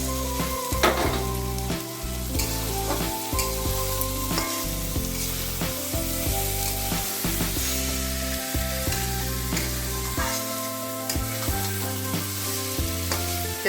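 Koi fish for Bengali tel koi fry in hot oil with spices, a dense, steady sizzle and crackle that runs throughout, close up, with background music playing underneath.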